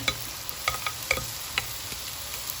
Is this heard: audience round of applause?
no